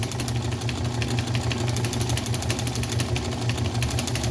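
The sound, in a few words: John Deere tractor engine with Wico X magneto running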